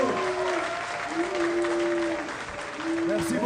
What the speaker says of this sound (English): Round of applause, s'il vous plaît.